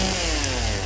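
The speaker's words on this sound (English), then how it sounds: "The chainsaw, really good weapon." A chainsaw weapon in the survival horror game Silent Hill 2 runs with a loud, constant buzzing engine roar, close and unbroken for just under a second.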